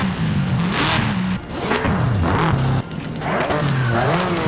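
A Subaru S209's flat-six boxer engine in Forza Horizon 5 revs repeatedly, its pitch climbing and dropping in quick rising sweeps, loud and close with a synthetic game-like quality.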